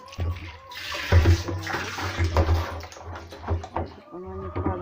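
A hose pours water into a barrel in a livestock shed, a gushing, splashing flow running beneath intermittent talking, with other shed noises and voices mixed in.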